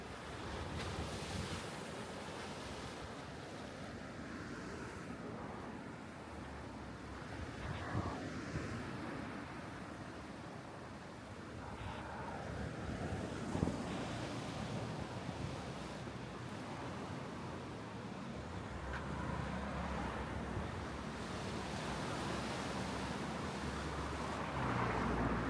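Ocean surf rolls steadily onto the shore at Inamuragasaki beach in Kamakura, a continuous wash of breaking waves mixed with heavy wind buffeting the microphone, with no voices.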